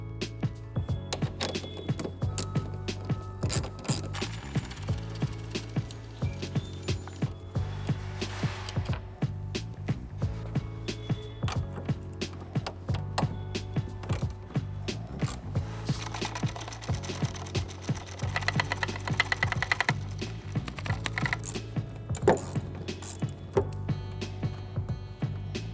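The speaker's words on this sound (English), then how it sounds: "Using your 10mm socket, we're gonna remove 2 bolts." A 10mm socket wrench removes two headlight bolts on a 2009-2018 Dodge Ram 1500, with rapid, continuous metallic ratcheting clicks that run steadily and close up throughout, no voices.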